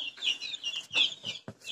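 High-pitched peeping and cheeping from chicks, repeated in quick overlapping calls, fairly close with no talking.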